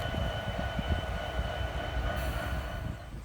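A Union Pacific train led by SD70AH locomotive 9038 rolls past close by, a loud continuous rumble of wheels and cars with faint metallic squeal and no talking.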